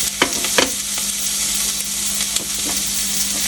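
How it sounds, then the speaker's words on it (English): Garlic sizzling in a hot pan left over from braising chicken, a steady close frying hiss broken by a few sharp crackles and stirring scrapes. "I'm going to let this garlic cook on the leftover carryover cooking, right in the middle."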